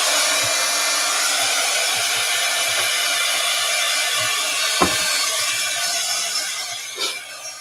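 A hair dryer blows steadily and loudly over a mixed media floral collage painting, a continuous close whoosh that tapers off near the end with a couple of small knocks.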